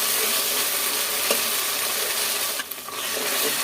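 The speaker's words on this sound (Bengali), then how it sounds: "আদা রসুন ভাজা হয়ে গেছে।" Ginger and garlic fry in a pan with a continuous loud sizzle, and a brief utensil clatter comes near the end. No one speaks.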